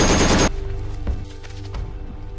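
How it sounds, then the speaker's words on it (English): Heavy machine gun fire from a battle scene in the WWII series The Pacific, a loud dense burst of gunfire for about half a second, then quieter scattered shots and rumbling under the battle din. "That machine gun is brutal."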